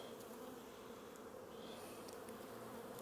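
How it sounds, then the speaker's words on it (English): Honey bees buzz in an opened colony during a hive split, making a steady, dense, fairly quiet drone with no voices. "Look at these beautiful bees right here"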